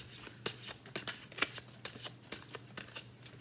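A deck of tarot cards shuffled close by in quiet, a series of soft crackling riffles and light slaps of card edges that repeat in an uneven rhythm for several seconds.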